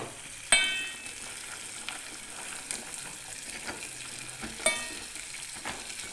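Cashews and almonds roast in a dry pan with a soft, continuous sizzle, broken by two sharp metallic clinks and light scraping as they are stirred.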